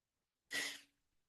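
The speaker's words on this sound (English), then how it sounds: "Sneeze coming." One short, sharp human sneeze bursting out of silence and trailing off into a faint breath, close and alone.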